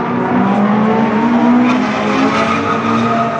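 Drift cars at a drifting event being run out for the press, with engines revving hard in a sustained high-pitched wail and tires squealing across the whole stretch, loud and close.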